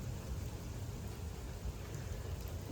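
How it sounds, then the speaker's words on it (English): Steady rain falling outdoors at Disney's Coronado Springs Resort, a dense, even wash of noise with a low rumble beneath it, continuous and fairly loud throughout with no voices. "to walk through the rain."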